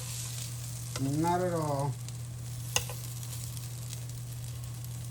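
Sweet batter cakes browning in a hot pan give a soft, steady sizzle under a low hum; a person speaks briefly midway, followed by one sharp click.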